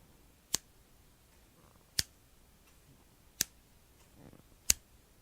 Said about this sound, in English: keep count of how many times I snip the scissors